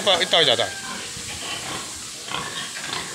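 Pigs on a Philippine farm, mother sows among many piglets, make high squeals and grunts at the start, then settle into hissy pen noise with scattered snorts and a few more squeals near the end.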